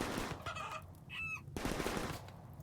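Clucking and squawking from a chicken-bear-rooster creature in the RimWorld video game, a few short bursts of fowl-like calls mixed with rattling game effects and a busy noisy background.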